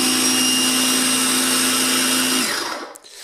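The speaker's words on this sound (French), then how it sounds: "On a un appui bref et le compresseur démarre." A portable 150 PSI car tyre inflator compressor drones loud and close with a steady motor hum for over two seconds, then winds down and cuts out, followed by faint handling noise.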